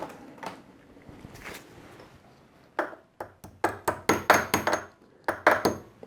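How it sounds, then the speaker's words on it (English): A hammer lightly taps a motorcycle chain onto the sprocket teeth of a KLR650 during chain and sprocket replacement, giving a run of sharp metallic taps, scattered at first, then quicker and louder, close by. "I just used a hammer lightly to tap it up onto the teeth"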